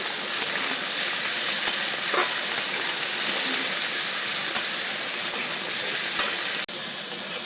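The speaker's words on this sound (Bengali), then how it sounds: "সব সবজিগুলো আবার দেখুন খুব ভালোভাবে ভাজা হয়ে গেছে" Shrimp and vegetables stir-fry together in a hot pan with ivy gourd greens, giving a loud, continuous, close sizzle with faint stirring sounds and no voices.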